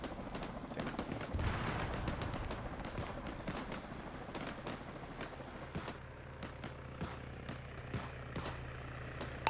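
Suppressing gunfire on top of a fort during a military operation, sharp bursts and single reports cracking out at irregular intervals over a low, constant rumble, fairly distant and muffled.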